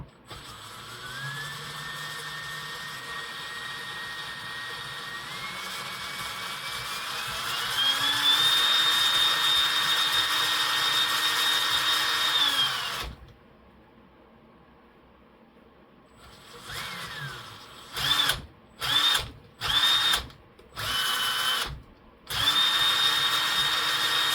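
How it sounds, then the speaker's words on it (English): A servo on a Vaterra Ascender K10 RC crawler gives a close, steady buzzing whine that steps up in pitch and holds. It cuts out, then returns in several short bursts before running steadily again. "Servo is chattering a bit."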